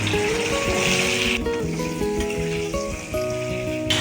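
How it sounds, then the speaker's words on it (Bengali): Cauliflower frying in a pan with a little salt while cooking a mixed vegetable and paneer dish, giving a steady close sizzle under harmonic tones that change partway through; no one speaks. "তাই একটু ভালো করে ভেজে দিই।"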